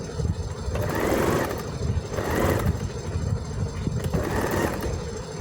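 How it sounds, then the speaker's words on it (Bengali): A sewing machine stitches a cord diagonally onto a saree-border tassel, running in steady mechanical bursts with a brief easing roughly every second or so, fairly loud and close, with no talking. "এখন আমি দড়িটা কোনাকুনিভাবে রেখে সেলাই করে দেব।"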